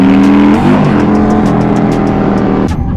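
Motorcycles rev and accelerate on a Miami road, a loud continuous engine roar with rising harmonics and a gear change near the end, close by and without talk.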